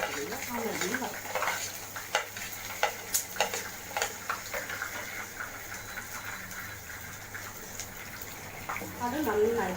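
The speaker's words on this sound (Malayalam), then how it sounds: "ആ മല്ലിയും വറുക്കാം" A handful of coriander seeds roasts in a pan with soft, faint crackling and scraping from repeated stirring, with scattered light ticks and taps over a low background hum.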